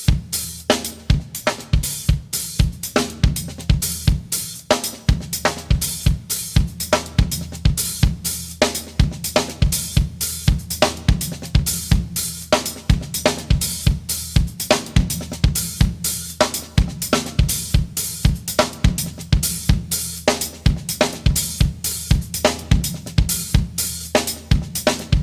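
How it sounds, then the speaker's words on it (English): A steady drum groove alternates hi-hat ticks with sharp snare hits at an even, continuous tempo, close and fairly loud with no voices. "sort of going back and forth between the hi-hat and snare drum while this is going on."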